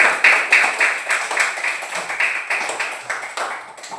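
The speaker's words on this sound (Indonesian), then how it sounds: "Kita beri tepuk tangan kepada kelompok kita masing-masing." A class of students claps for their groups in a classroom, with quick, bright bursts of clapping repeating in uneven waves across the whole stretch, fairly close and loud.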